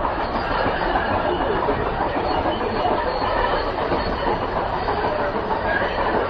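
An MBTA subway train on the Boston College line runs steadily with a loud, continuous rumble and rail roar, faint clickety-clack of wheels on the track, and no voices.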